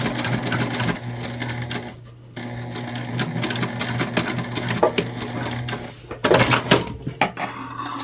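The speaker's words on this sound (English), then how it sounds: "we're gonna sew straight across" A sewing machine stitches straight across a quilted fabric pouch, its motor running in a steady buzzing whir for most of the span with a brief pause midway and a louder burst near the end.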